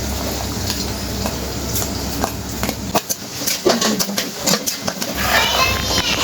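Chopped onion sizzling and frying in hot oil in a large pot for pav bhaji, a steady broadband crackle with scattered sharp pops and stirring clatter, close and fairly loud, with no talk.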